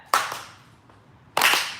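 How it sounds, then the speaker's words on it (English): Audience hands clapping along at a spoken word poetry event, two dense bursts of many claps roughly a second apart with a thinner clap between, fairly close and loud, no voices. "I need y'all to just clap."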